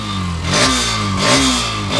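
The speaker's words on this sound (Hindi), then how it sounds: "एक रेसिंग बाइक का जो साउंड होता है जब आप खींचते हैं तो मज़ा आता है" A Hero Xtreme 125R motorcycle engine revs up twice in close succession, its pitch rising and falling with each twist of the throttle.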